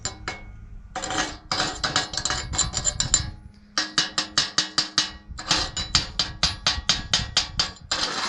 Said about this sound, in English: Let's get the slag hammer here and I'll kind of chip it off